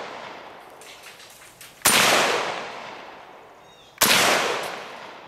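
Two loud, sharp reports from an Auto Ordnance M1 Carbine fired at a cinder block, each with a long decaying echo, spaced about two seconds apart outdoors.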